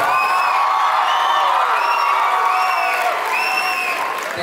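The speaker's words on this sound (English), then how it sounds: "Can we get another round of applause for Casey Chucker," Applause and cheering from a crowd for a performer at a livestreamed show, a dense, steady roar of clapping with scattered whoops throughout.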